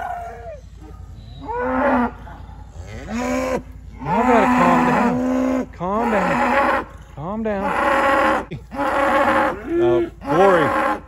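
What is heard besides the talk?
cattle mooing in pasture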